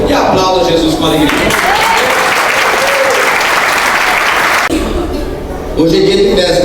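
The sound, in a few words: church congregation applauding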